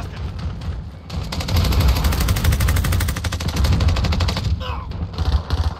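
Sustained automatic gunfire in Call of Duty Modern Warfare, hardcore Headquarters mode on the Crash map, loud and rapid bursts that run for several seconds, with a few softer shots before and after.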